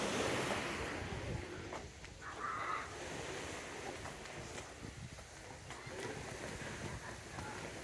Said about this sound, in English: If it wasn't so wavy right now, you could probably see right through it